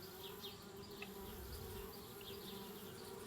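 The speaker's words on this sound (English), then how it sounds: "Darn bees, trying to..." Bees in the Anna's Quest adventure game give off a steady, low insect drone, with a few brief higher buzzes passing over it throughout.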